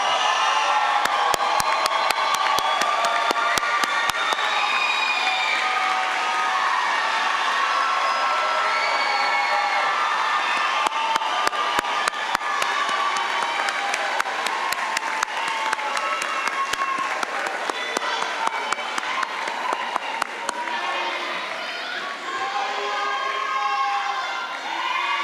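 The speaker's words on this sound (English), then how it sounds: "All the candidates have now been successfully hooded, so if you want to clap now" Graduation commencement audience clapping and cheering after candidates are hooded, a sustained dense round of applause with whoops and shouts throughout, lasting a long time before fading slightly at the end.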